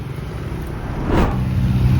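A GT sports car with no plates gives a brief engine rev that swells midway and then holds at a steady, fairly loud drone, heard close by outdoors.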